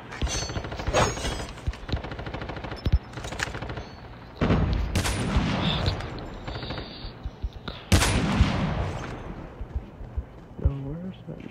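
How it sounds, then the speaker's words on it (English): Rapid bursts of gunfire, including sustained automatic fire and sharp single shots, loud and close, mixed with heavy impacts and faint voices, during a battle royale video game match. "I heard some, like, gunshots or something."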